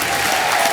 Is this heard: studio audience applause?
yes